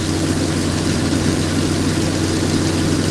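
Loud, steady propeller aircraft engines idling nearby in Nanton, a deep humming rumble, continuous and unchanging.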